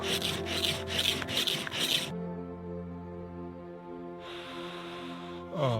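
Dry cedar bark is scraped with quick, rough rasping strokes for a tinder bundle, a close, steady rubbing that lasts a couple of seconds before giving way to a lower, quieter tone and a hiss.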